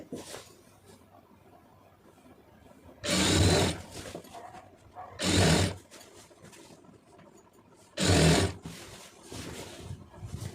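Sewing machine stitching falls onto a saree runs in three short loud bursts of a few seconds each, separated by quieter pauses of handling noise.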